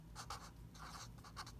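A single word is written on a board in a few quick, scratchy strokes, close and fairly soft, all within a moment.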